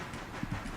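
A passenger train rolling along the track in the Railroader simulation game, a low steady rumble with faint rhythmic wheel clicks, quiet and without voices.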